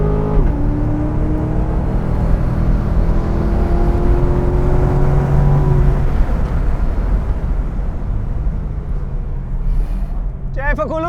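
Corvette at a drag race launch losing front grip and sliding sideways, a loud continuous engine roar with rising revs and a shifting whine, heard close and steady throughout.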